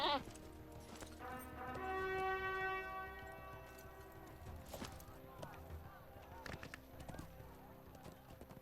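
Horse riding in The Lord of the Rings Online, a war steed's hooves clip-clopping in a steady rhythm with a whinny near the start, under people talking.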